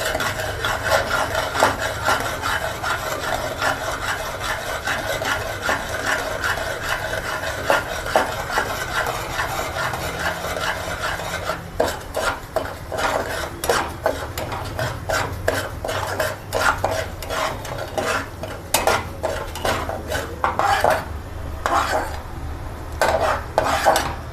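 Semolina (rava) roasting in a pan for sooji sheero, with a spoon scraping and stirring continuously in a steady, gritty rhythm, close and fairly loud.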